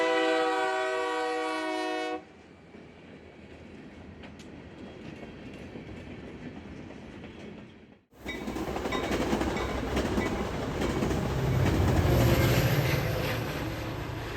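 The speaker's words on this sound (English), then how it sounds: "we chased some trains" A train passes with a loud multi-tone horn blast at the start, then the rumble and clatter of rail cars rolls on, swelling louder toward the end, with no voices.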